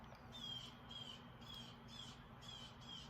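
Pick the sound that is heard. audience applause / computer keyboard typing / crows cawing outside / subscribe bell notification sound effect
crows cawing outside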